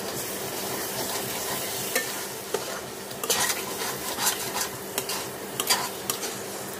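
Spices being stirred into wood apple pickle in a pan over a medium-low flame: a steady soft sizzle with scraping spoon strokes and a few light clinks against the pan, close and continuous, with no talking.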